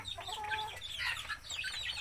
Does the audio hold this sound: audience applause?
no